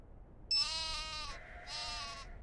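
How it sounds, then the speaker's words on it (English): Sheep bleating in the Nancy Drew video game Tomb of the Lost Queen: two wavering, nasal bleats in close succession, clear and fairly loud with no talk. "Yeah, I like the sheep."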